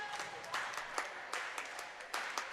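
Spectators at a women's college volleyball match cheer and clap in a gym, bursts of applause rising and falling over a low murmur of crowd noise, moderately distant.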